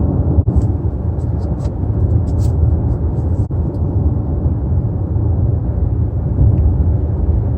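Steady low engine hum and road rumble inside a 2020 Subaru Outback cabin on the road, subdued and continuous, with a few faint clicks and no talking.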